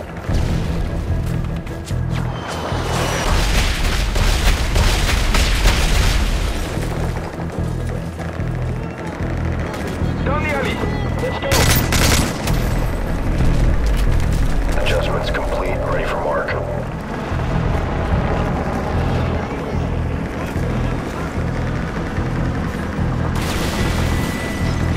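Heavy gunship fire-mission explosions from Modern Warfare 3 boom and rumble almost continuously at close range, with sharp crashes punctuating the barrage and radio voices talking over the blasts.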